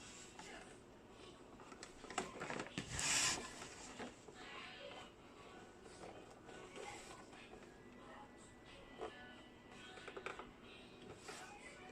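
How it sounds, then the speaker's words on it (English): A basic sewing machine stitches a homemade tablecloth, giving a close mechanical whirring and clicking in uneven bursts, with one louder surge and some fabric handling between runs. "So I'm ready to sew it now."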